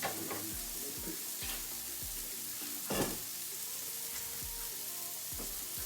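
A vegan burger patty fries in a hot pan with a steady, close sizzle, punctuated by repeated scraping and stirring strokes of a spatula against the pan surface.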